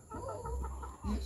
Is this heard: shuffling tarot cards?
no